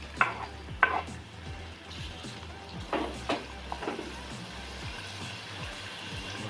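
Chopped tomato goes into a pot of mutton, samp and beans curry, with a soft sizzle and scraping stirring strokes, a few louder clunks of spoon against the pot, fairly quiet and close.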